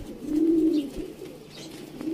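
Rampuri pigeons coo softly and close by, with a low throaty coo near the start and a shorter one at the end over a quiet background.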